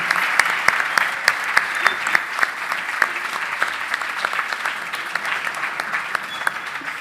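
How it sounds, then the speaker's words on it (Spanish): Steady audience applause at an agricultural conference event in Salta, with a dense patter of many hands and a few sharper claps standing out near the front, continuing without pause. "Fuerte el aplauso para ella."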